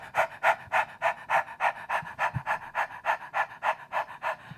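A person imitates a big dog panting during a community choir warm-up: a steady run of about fifteen loud, breathy huffs in even rhythm, close and alone without talk.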